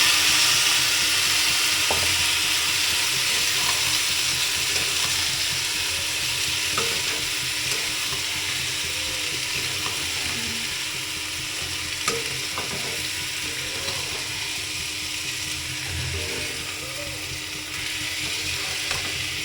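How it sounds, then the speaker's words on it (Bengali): Rice and lentils frying together in ghee for khichuri, a continuous sizzle with scraping and stirring strokes of a spoon against the pan throughout, steady and fairly close. "ঘি দিয়েছিল, চাল ডাল একসাথে কষিয়ে নেব।"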